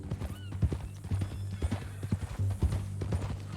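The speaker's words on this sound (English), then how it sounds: "That a new horse?" Horse hooves clip-clop in a steady, close rhythm in the Red Dead Redemption 2 video game, with a brief whinny near the start; no one speaks.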